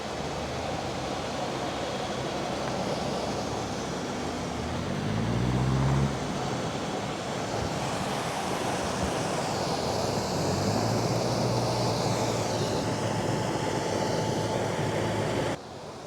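Steady loud rush of water flowing through a canal bywash beside a lock on the Leeds Liverpool Canal, broad and constant, with a low narrowboat engine drone briefly rising in the background.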